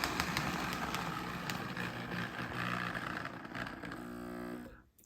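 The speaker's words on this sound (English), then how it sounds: "Quite a loud motor, but that's nothing I can do about that unless I obviously replace the motor." An AHM CP Rail model train switcher runs with a loud electric motor, giving a continuous close whine and hum for about five seconds before it cuts off abruptly.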